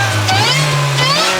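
A Mini Cooper JCW's supercharger whines as the engine revs, the pitch sliding up and then easing down over a steady mechanical drone, loud and close.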